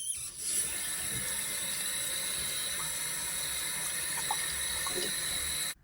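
Tap water runs steadily into a sink as plastic filter parts and shell casings from a turtle tank are rinsed, a constant broadband hiss with faint clicks and clatter of the pieces being handled.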